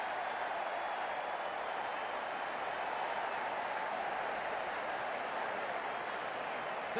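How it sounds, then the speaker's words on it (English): A cricket crowd applauds after a big shot at a Dallas versus Seattle league match, steady sustained clapping heard from a distance with no breaks. "The crowd on their feet."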